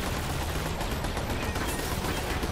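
Rapid, continuous turret gunfire in the video game Borderlands 3, a dense unbroken stream of shots that fills the whole moment at steady loudness.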